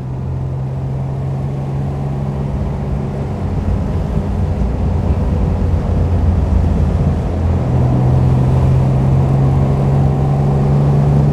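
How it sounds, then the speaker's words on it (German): A 1938 Mercedes 320 Cabriolet A engine hums steadily while driving, a loud, close, continuous low drone with wind and road rumble that grows slightly stronger toward the end, with no one talking. "Aber Motor läuft gut. Das muss ich wirklich sagen. Die Maschine läuft gut."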